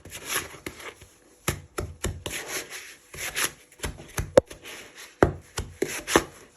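A wooden spoon scrapes and beats cupcake batter in a bowl with repeated rough, rubbing strokes in an irregular rhythm, close and fairly loud, with nobody talking.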